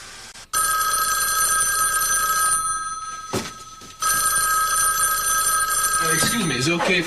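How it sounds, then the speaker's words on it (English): A telephone bell ringing loudly in long electronic trills, with a brief gap between rings, and a voice starts talking near the end. "Excuse me, is it okay if I answer the phone?"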